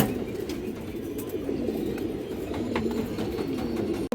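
A rare-bloodline domestic pigeon, a khaki hen with black beak, coos steadily in low, continuous murmuring tones close by, with no talk over it.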